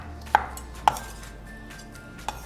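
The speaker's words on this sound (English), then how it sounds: "We're gonna cut it into quarters and then" A knife slicing a cucumber into inch-thick pieces on a cutting board, three distinct sharp chops, two close together early and one later, over quiet kitchen background with no talking.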